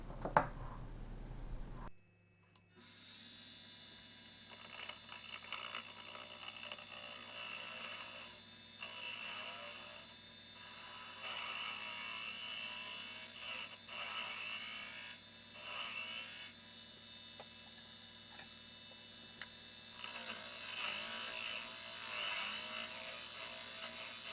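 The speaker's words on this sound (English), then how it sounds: "oak on the lathe. Going to turn it flat on both sides." Oak from a used bourbon whiskey barrel turns on a lathe as a ring blank is cut flat, a steady motor hum under intermittent scraping and rasping tool bursts that come and go over about twenty seconds.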